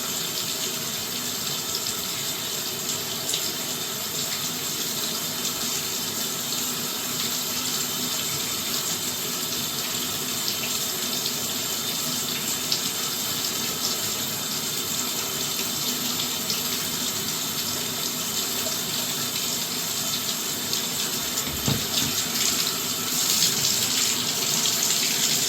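Cold water runs steadily from a tap while a doll is washed, a continuous hissing splash with no pauses or talk for the full stretch.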